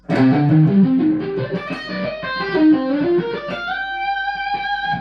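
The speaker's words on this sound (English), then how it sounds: "The next example is this really cool sweep arpeggio," A fast, choppy electric guitar sweep arpeggio runs up and down through palm-muted, clipped notes, then settles into a few ringing sustained tones at the end.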